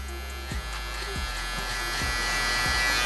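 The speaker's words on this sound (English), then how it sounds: "Tap, trimmer's gonna do the job." Zero-gapped electric hair trimmer buzzing steadily up close during a low mid taper haircut, with several light taps and clicks as it works.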